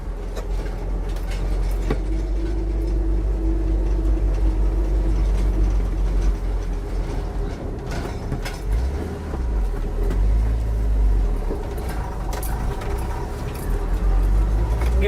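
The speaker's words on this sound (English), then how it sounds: "But let's go take it for a drive. We got a little bit of a climb coming out of here where I got parked." A 1967 Ford Bell truck with a manual clutch pulls up a short climb, its engine a steady loud low rumble with road and cabin noise throughout and a few shifts in load.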